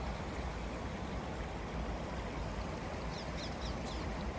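River running high after a full day of rain, a steady broadband rush of water heard up close, with a few faint bird chirps late on.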